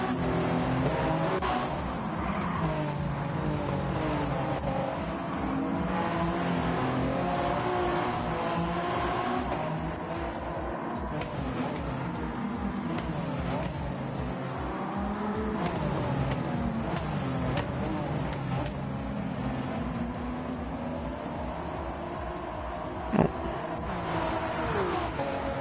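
Race cars in Gran Turismo 7 roar continuously through a lap, engines revving and shifting as one car pulls alongside and overtakes another, with steady loud engine tone and occasional tire noise throughout.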